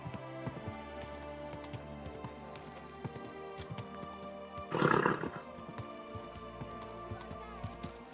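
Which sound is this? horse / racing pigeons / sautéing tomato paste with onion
horse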